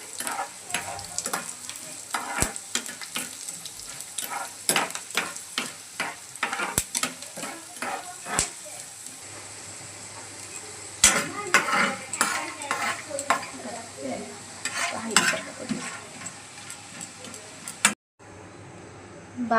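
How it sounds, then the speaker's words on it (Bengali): Peanuts fry in hot oil in a pan while a spoon stirs them, giving a continuous crackling sizzle broken by many sharp scraping clicks against the metal. The sound continues for a long stretch and then cuts off abruptly near the end. "এখন বাদামগুলোকে সুন্দর করে ভেজে নেব।"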